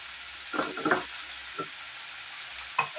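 Drumstick leaves sautéing in a pan for a poriyal, a soft continuous hiss with a few short scraping stirs and light clicks close by.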